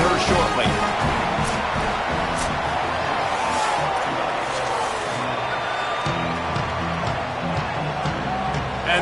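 Stadium crowd at a college football opener in College Football 27, NDSU against USF, a steady, loud wash of fan noise with a band's rhythmic pulses underneath, while a commentator talks over it.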